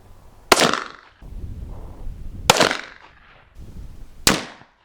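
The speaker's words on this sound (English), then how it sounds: "That's some good shooting, isn't it?" Three loud, sharp rifle shots from a deer hunting rifle ring out about two seconds apart, each with a short echoing decay, against quiet outdoor background.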